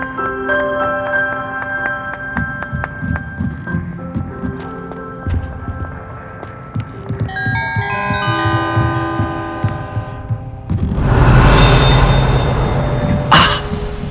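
Bells ringing in the Hogwarts Legacy video game, layered metallic tones and chimes sounding in clusters with a sustained ring, building into a loud, dense clangor toward the end.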